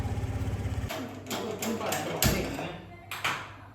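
A scooter engine putters in with a steady, rapid low throb for about a second, then cuts out as voices talk over a few dull thumps.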